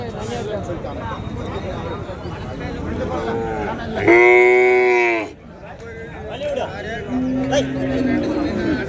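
Calves low repeatedly at a busy Tamil Nadu cattle market, one loud, near moo standing out in the middle and a shorter call later, over a steady hubbub of voices and crowd noise.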